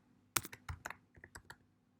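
Keyboard keys clicked during an online statistics lecture while a formula is typed: about a dozen light, irregular taps in quick bursts, close and clear in a quiet room, then silence.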